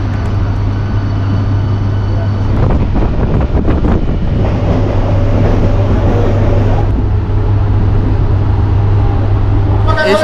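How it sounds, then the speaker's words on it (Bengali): A local train pulls away from a station on the Tarakeswar line with a loud, continuous rumble and a low steady drone. Rattling swells in the middle and wind buffets the microphone up close. "সিগন্যাল হয়ে গেছে, ট্রেন ছেড়ে দেবে, ট্রেন ছেড়ে দিয়েওছে।"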